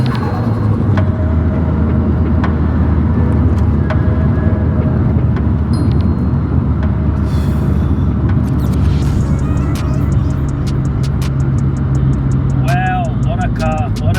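A Nissan S15's turbocharged engine drones loudly and steadily from inside the cabin while driving, a deep, continuous rumble with occasional rising whooshes and whistles from the turbo over it.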